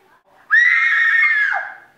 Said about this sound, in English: A scream of horror,